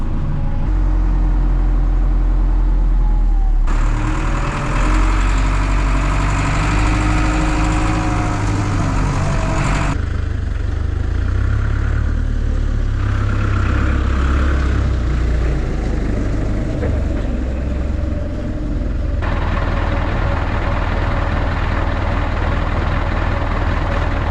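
A heavy tractor diesel engine drones steadily at close range, its tone shifting abruptly several times as the revs change, with no voices.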